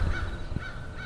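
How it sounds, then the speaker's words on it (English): A crow-like bird on a golf course gives repeated harsh calls, three spaced cries standing out over steady outdoor background noise, fairly close and moderately loud. "that bird would not have been making those noises"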